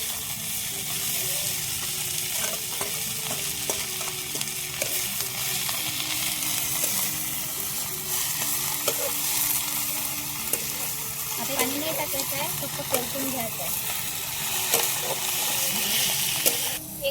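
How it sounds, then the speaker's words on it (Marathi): Fenugreek leaves sautéing in hot oil, a continuous close sizzle with scattered crackles and the scrape of stirring throughout. "चिरलेली मेथी होती ना धुवून घेऊन घेतली ते टाकून घेऊ मस्त आपल्या परतून घेऊ"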